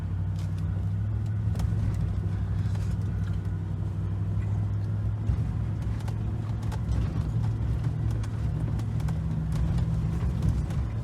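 A 2019 Chevrolet Silverado 1500 crawling off-road in first gear on a Colorado mine trail, a steady low engine rumble with crunching and rattling from the rough ground, heard from inside the cab.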